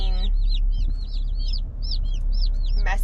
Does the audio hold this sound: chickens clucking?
yes